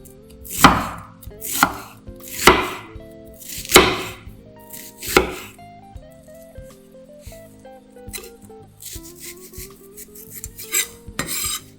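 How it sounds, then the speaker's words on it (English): A knife thinly slices half an Indian onion on a board in about five crisp, evenly spaced chops up close, followed by lighter tapping and kitchen clatter. "Thinly slice half of Indian onion."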